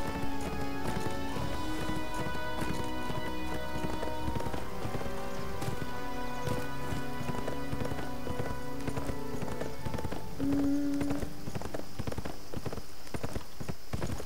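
Steady clip-clop of horse hooves ridden around a jumping ring in a horse riding video game, a continuous rhythmic trot with layered game music tones, moderately loud.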